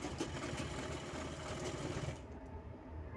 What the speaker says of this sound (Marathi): दोन्ही पीसला या पट्ट्या शिवून घ्यायच्या आहेत